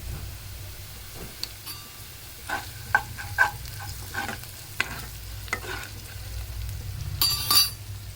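Diced potatoes frying and being stirred in a pan, a low steady sizzle broken by spoon scrapes and metallic clinks against the pan at irregular intervals, close up with no voices.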